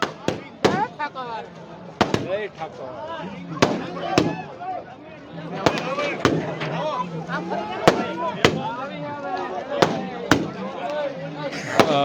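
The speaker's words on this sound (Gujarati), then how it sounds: "આતશબાજી જે છે તે કરવાની છે ને હવે આ તો બધી હજી શરૂઆત છે" Fireworks at a celebration on a lakeside bank, with sharp loud bangs and crackling bursts popping repeatedly over a continuous crowd murmur and people talking nearby.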